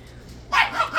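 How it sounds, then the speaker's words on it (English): A dog gives a couple of short, sharp barks close by, following a quiet moment. "that's my dog."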